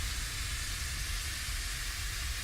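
A loud, continuous roaring hiss of steam venting through a steamship's safety valves on the Titanic, steady and unbroken with a deep rumbling underlayer.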